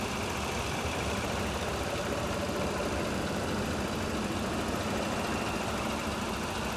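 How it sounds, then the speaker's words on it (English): A 2015 Chevrolet Silverado 1500 Regular Cab with the Ecotec engine idles with the hood shut, giving a faint, steady, even hum with no change in pitch. "And a smooth, quiet running engine as well."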